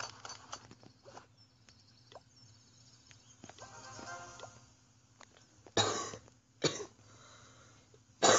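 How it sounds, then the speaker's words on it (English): A man coughs repeatedly at close range, several short harsh bursts scattered through a quiet room, the loudest near the end. "Sorry for me coughing."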